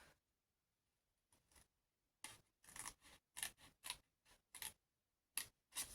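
Scissors snipping through paper while cutting out a pop-up photo album page, a series of close, crisp cuts in irregular bursts after a quiet start, with no talk.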